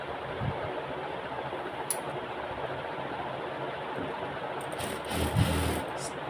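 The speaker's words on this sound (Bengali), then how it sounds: "এখন সেলাই করে নিচ্ছি সাইড দিয়ে" A sewing machine runs along the side of a piece of fabric, giving a steady, even mechanical whir with a slight swell near the end.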